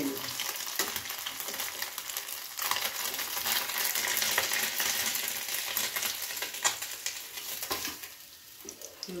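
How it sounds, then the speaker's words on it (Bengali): Mourola fish fry in hot oil, giving a dense, steady sizzle that swells and ebbs, with a few small clinks and spatters near the end. "দেখুন এই মাছটা খুব ভালোভাবে ভাজা হয়ে গেছে"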